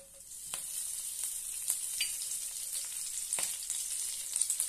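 Red chillies and curry leaves frying in hot oil for a curd-tempered brinjal dish, a steady bright sizzle with a few faint stirring taps, close and alone.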